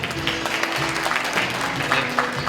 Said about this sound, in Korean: 큰 박수로 축하해 주세요.